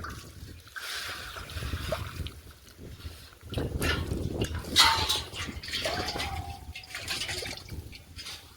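Water poured from a container onto chili plants in an outdoor garden, a steady splashing trickle with gurgling bursts, fairly close and continuous throughout.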